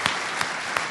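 A church congregation claps together during a sermon, a dense steady burst of applause filling the hall for a moment, with a few louder claps standing out.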